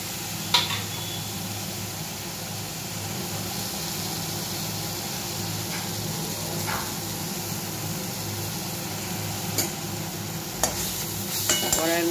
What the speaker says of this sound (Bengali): কড়াইয়ের মধ্যে ঢেলে দিয়ে আমি একটু নেড়ে চেড়ে নিচ্ছি